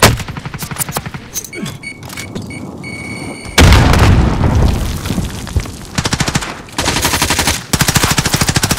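Automatic rifle bursts and single gunshots crack loudly through a Call of Duty Warzone quads match on the Farmland map, with rapid rattling volleys, a heavy boom and recurring bursts across the whole stretch, up close and dense.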